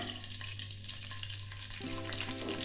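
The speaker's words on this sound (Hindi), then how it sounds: "इसमें मैं ज़ीरा डालूंगी, तो हल्का सा फ्राई करेंगे।" Cumin seeds fry in a pan of hot oil with a steady close sizzle and light crackling throughout, with no talk over it.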